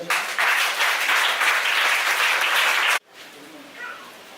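A church congregation applauds in praise of the Lord, a loud, steady wash of clapping for about three seconds that cuts off abruptly, leaving a quieter room with some murmuring.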